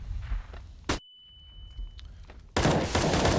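Bursts of AK rifle fire in a CS:GO match on the Train map, with sharp single cracks and a sustained dense volley at the end, mixed with footsteps and game ambience.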